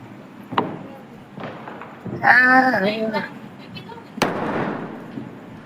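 A few sharp Diwali firecracker pops go off at intervals, one loud crack standing out, with voices talking in between and a brief shout.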